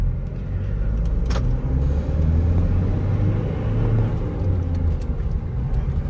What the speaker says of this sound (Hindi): सेकंड गियर के अंदर बहुत प्यार से उठती है, हैंड ब्रेक डाउन, क्लच छोड़ा हल्का सा